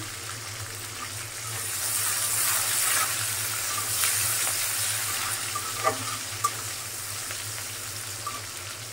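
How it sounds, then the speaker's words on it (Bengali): Cumin seeds, bay leaf and onion fry in hot oil, giving a steady close sizzle with a couple of brief pops and stirring sounds, no voices. "জিরাটা, তেজপাতা, পেঁয়াজ আবার হালকা ভাজা হয়ে গেছে।"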